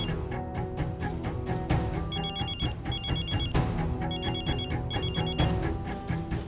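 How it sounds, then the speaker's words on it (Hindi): A phone rings with an incoming call, its electronic ringtone repeating in a bright, insistent pattern, up front over a busy musical background. "भाई, दिव्या दीदी का फोन है।"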